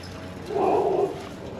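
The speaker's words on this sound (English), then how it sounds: "Oh, big dog, big dog." A single deep bark or woof from a big dog sounds at moderate distance, brief and muffled, over a steady background hum.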